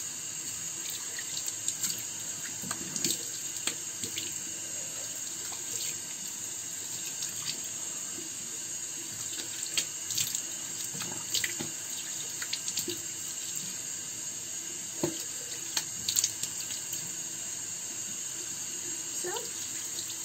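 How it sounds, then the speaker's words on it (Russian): A bathroom tap runs steadily for a long stretch while someone rinses cleansing oil off their skin, a close continuous hiss of water with occasional light knocks and splashes. "Сейчас мы смываемся."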